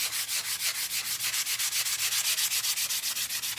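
A dried Christmas craft figure being sanded smooth by hand, a quick, steady back-and-forth rasp of about six strokes per second, close and alone with no voices.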